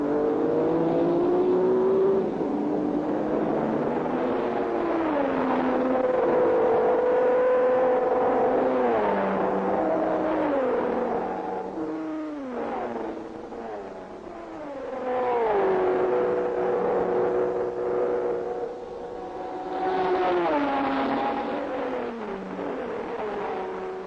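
Aston Martin and Ferrari sports racing cars lapping at Le Mans in 1959, their engines roaring continuously as revs climb and fall through gear changes while cars pass, loud and unbroken with no talk.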